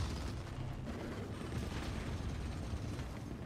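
A mech attacking in the video game The Forever Winter, a continuous rumbling barrage of booms and blasts that stays dense and loud throughout without a break.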